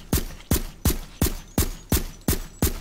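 Seven evenly spaced gunshots ring out in a rapid, steady rhythm from a weapon fired in a video game, each one a sharp, loud crack followed by a short decay, with no talking.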